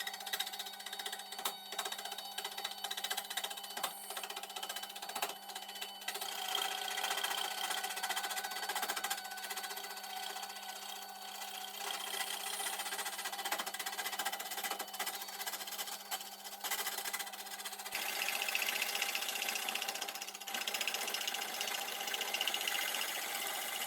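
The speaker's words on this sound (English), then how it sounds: "The lathe was bouncing around a bit at first, until I had removed enough wood to balance the whole thing" A wood lathe spins an off-balance laurel log, weathered from sitting outdoors, with a steady mechanical whir and hum and rough scraping of the cutting tool, fairly loud and continuous for the whole stretch.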